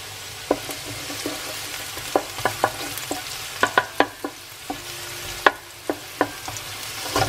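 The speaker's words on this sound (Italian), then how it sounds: "Facciamo sfrigolare un attimo." Chopped onion, cut coarse, sizzles in a hot frying pan being readied for cooking quail with pancetta, a steady crackling hiss broken by repeated sharp pops and stirring clatters, close and fairly quiet, with no talking.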